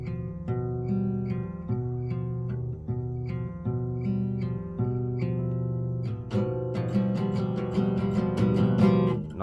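Picked guitar chord in close position, a chromatic diminished voicing with notes sounding in sequence and ringing together, played alone with clear, sustained tones and a denser flurry of plucked notes near the end.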